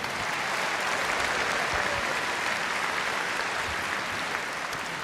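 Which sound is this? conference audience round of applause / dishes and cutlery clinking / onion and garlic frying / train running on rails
conference audience round of applause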